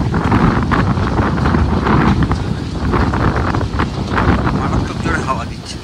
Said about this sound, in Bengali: মারাত্মক জোরে হাওয়া দিচ্ছে।